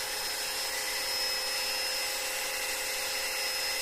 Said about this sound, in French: ces ventilos font un bruit ignoble